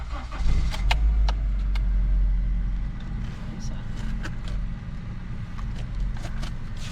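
A car engine runs after its fuse has been replaced, a steady low rumble that holds close and fairly loud throughout, with a few clicks and short sharp ticks over the top and speech faintly present.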